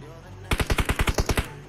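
A rapid automatic burst of about ten gunshots from an enemy player in a battle royale video game, loud and close, evenly spaced and standing alone after a brief quiet lead-in.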